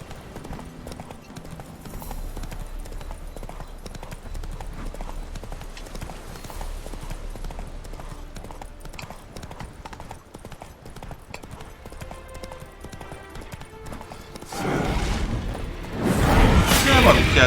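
Horse hooves clip-clopping in The Witcher 3: Wild Hunt Hearts of Stone, a steady rhythmic trot under game ambience and someone talking, ending with louder bursts of noise.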